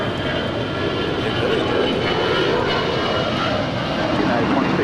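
A plane takes off from a runway at LAX, its engines giving a loud, continuous roar that holds steady throughout, with voices faintly mixed in underneath.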